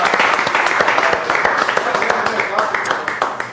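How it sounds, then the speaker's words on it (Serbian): A studio audience applauds during a guest appearance on a Serbian TV entertainment show, a dense, steady wash of clapping with a few individual claps standing out, mixed with crowd voices throughout. "Za aplauz."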